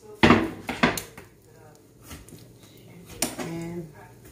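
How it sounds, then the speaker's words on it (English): A knife that needs sharpening chops peppers on a board, making a few sharp knocks and clatters spaced over several seconds, with a voice talking in between. "We're going to cut up some peppers."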